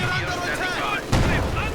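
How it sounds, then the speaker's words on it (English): Mortar fire in the World War II strategy game Company of Heroes 2 booms repeatedly under a dense, loud mix of battle noise and overlapping voices, with one heavier thump near the end. "And mortar firing away."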